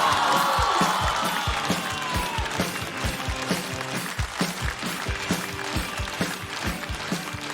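A stand-up comedy audience applauds and cheers as a comedian is welcomed on stage, dense clapping that is loud at first with whoops, then settles into steady rhythmic claps.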